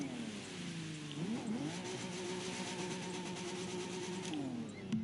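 Nissan GT-R Nismo GT3 race car engine in The Crew 2 video game, a sustained loud roar with the pitch dropping then climbing as it revs up, holding a steady high drone before falling off near the end.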